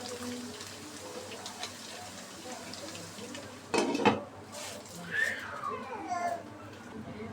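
Lid lifted off a pan of beef being cooked for sizzling beef, with a short metallic clatter midway and soft scraping as pieces are moved into a bowl over a steady low kitchen hiss.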